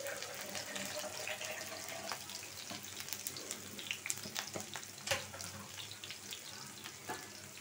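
Chopped onions and green chilies frying in a pan for a prawn and taro dish, a faint continuous sizzle with soft crackles and occasional stirring clatter, no talking.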